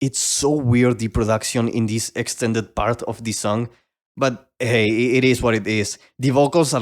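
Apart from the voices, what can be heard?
No distinct noise like a dog, phone or traffic.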